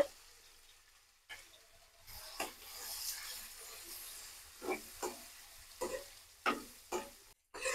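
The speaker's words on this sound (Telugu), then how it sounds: "అందులోనే ఉల్లిపాయలు, పచ్చిమిరకాయలు, కరివేపాకు వేసి బాగా మగ్గిచ్చేసుకోవాలి" Onions, green chillies and curry leaves fry in oil left over from frying eggs and fish, giving a soft, quiet sizzle broken by repeated sharp scrapes and taps of a stirring spoon.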